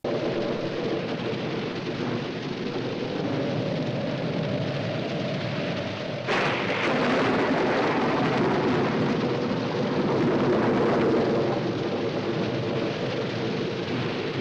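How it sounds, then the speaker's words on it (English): A tropical storm roars with continuous heavy rain and wind, then a sudden loud thunder crack breaks in and leaves a denser, rumbling downpour behind it. "That there is what we call a tropical storm."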